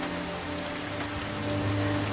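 Steady rain falling on a surface in the kiss scene from the film The Notebook, a dense continuous patter with a low sustained hum beneath it, no talk.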